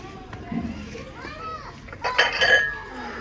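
Dishes clink and clatter as they are handled and set down, with light metallic chinks and a busier burst near the end, under people talking and children's voices.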